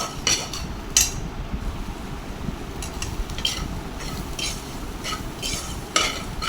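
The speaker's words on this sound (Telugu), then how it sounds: "ఆ రెండింటిని కలిపేసి మిక్స్ చేసేయండి దొండకాయల్లో" Ivy gourd slices with salt and chili powder are stirred in a low-oil pan, with a steady sizzle and repeated sharp clinks and scrapes of the spoon against the pan.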